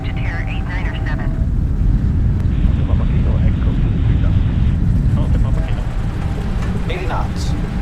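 Boeing 777-300ER taking off in rain at Denpasar: a loud, steady, low engine roar with rumble and wind noise throughout, while tower radio chatter is heard over it.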